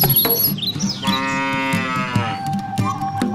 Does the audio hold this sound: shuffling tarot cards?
no